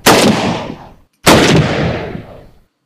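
Two loud Mosin Nagant rifle shots in Minecraft's Flans Mod, each a sharp crack with a booming tail roughly a second long, fired about a second apart.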